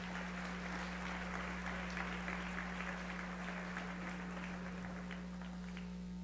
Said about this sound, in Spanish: este aplauso es para ustedes